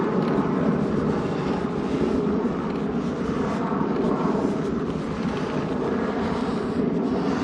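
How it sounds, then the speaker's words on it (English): An airliner flies overhead near Bournemouth in summer, its broad engine rumble steady and fairly loud for the whole stretch, with no talking. "Planes are zooming out in quick succession, even in Bournemouth."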